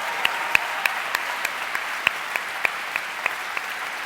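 Audience applause at a Make-A-Wish Michigan awards ceremony, steady clapping from a crowd with a few sharper, nearer claps standing out, moderately loud and continuous throughout.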